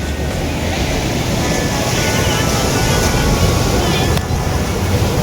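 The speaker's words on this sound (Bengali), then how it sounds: "প্রচুর ঢেউ, বেশ জোরদার।" Strong sea waves break on Kargil Beach at Bakkhali in a continuous, loud roar of surf, with gusty wind buffeting the microphone throughout.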